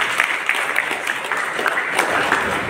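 An audience gives a guest a warm welcome at an NSS camp event with dense, continuous clapping. The applause stays close and fairly loud throughout, with no voices over it.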